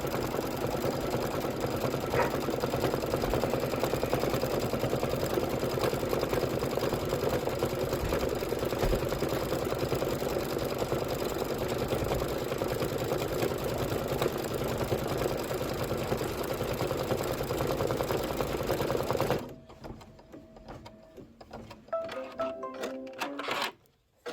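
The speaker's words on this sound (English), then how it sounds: "stitch the flower decorative outer stitch. So go ahead and stitch that." An embroidery sewing machine stitches a decorative flower outline, a steady fast mechanical whir and needle chatter running continuously up close before stopping abruptly near the end, followed by a few faint clicks.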